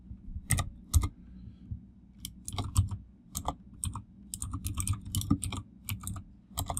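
Quick bursts of keystrokes on a computer keyboard while editing a text file in vim, close and crisp, with irregular clusters of taps separated by short pauses.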